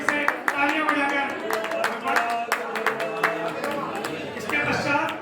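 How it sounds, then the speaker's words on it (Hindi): An audience at a Jain community free eye-check camp claps together, a dense, uneven patter of hand claps lasting several seconds at close-to-moderate distance, with some background chatter mixed in. "बहुत करतल ध्वनि से तालियां बजाकर"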